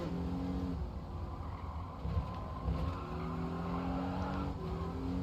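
A race car engine in Gran Turismo 7 drones steadily with shifting pitch as tires skid and squeal, a continuous mechanical roar with brief louder bursts.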